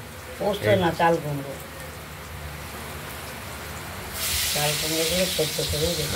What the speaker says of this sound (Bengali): কড়াইতে তেল গরম করে এবার একে একে ভেজে নিচ্ছি